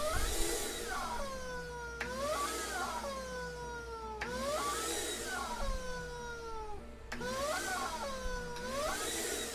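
A vacuum cleaner sucking on a Slinky spring toy, giving a loud repeated warbling, swooping whine in roughly two-second cycles over steady motor drone, close and alone.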